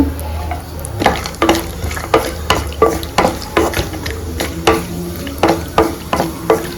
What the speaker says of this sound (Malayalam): ഇനിയിപ്പോൾ അതേ ഓയിലിക്കകത്ത് കുറച്ച് കാഷ്നട്ട് വെച്ചിട്ടുണ്ട് ഫ്രൈ ചെയ്യാനായിട്ട്